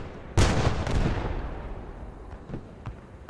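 A Stug III tank gun fires a single heavy, booming shot at a cart in the Post Scriptum video game, followed by a rolling rumble and a few fainter distant impacts.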